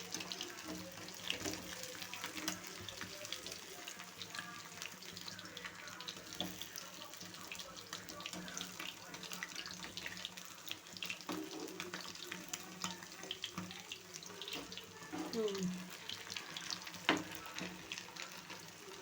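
Small sardines fry in oil in a pan, a steady close crackle and sizzle running alone throughout with faint scraping now and then.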